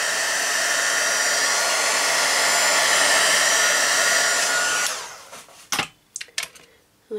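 A hair dryer drying ink on a craft project blows with a loud, steady rushing hiss for about five seconds, then cuts off, leaving a few close handling knocks.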